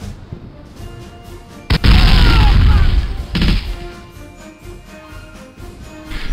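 A bazooka rocket detonates in the Day of Defeat shooter game, a single loud booming blast with a crashing burst that rolls on for about a second, followed by a smaller thump and lingering rumble.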